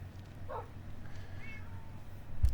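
A single Minecraft cat gives a short, faint meow over a low steady background, followed by a soft thump at the end.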